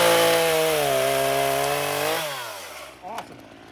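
A chainsaw trims wood, its engine holding a loud, steady whine before the pitch drops and it winds down to a halt, then a brief knock at the end.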